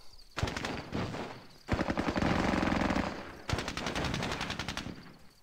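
Machine gun fire in the war video game Squad Battles Tour of Duty comes in three long, rapid bursts with short pauses between them, loud and close, with no talk.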